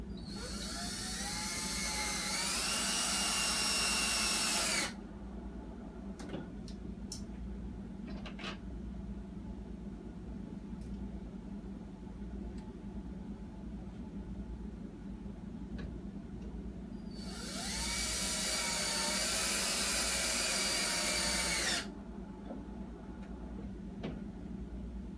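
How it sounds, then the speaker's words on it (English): A power drill drives screws, two per side, in two loud whirring runs of about five seconds each, the second rising and falling in pitch, with quiet ticking between them and no talk. "Grab your drill, and you're going to use 2 screws for each side to secure it."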